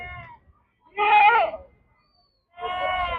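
Three loud sheep bleats, each about half a second, separated by short pauses, close by, with no talking.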